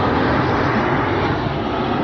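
A fixed-wing airplane passes overhead with a steady, loud engine roar that holds evenly for a couple of seconds, with no voices over it.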